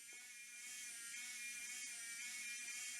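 A small electric motor in a Hachette RMS Titanic model kit runs ahead, giving a faint, steady high-pitched whir that holds evenly throughout with no talk.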